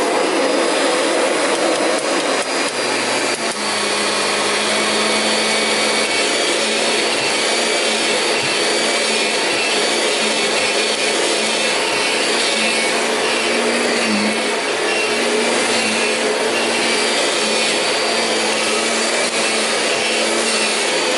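A heavy Kirby vacuum cleaner runs loud and steady at close range, a constant broadband roar with a slight shift in pitch a few seconds in as it settles, holding for about twenty seconds with no talk.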